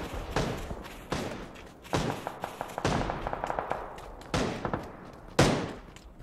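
Gunfire in the PUBG video game, a handful of sharp shots spaced a second or so apart with quieter rapid pops between them, moderately loud and without talk over them.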